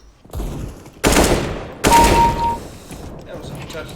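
Gunfire sprays from Counter-Strike: Global Offensive, two loud, close bursts of rapid automatic shots about a second apart with a short gap between them, heard without any talk.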